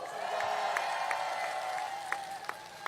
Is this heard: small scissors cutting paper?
no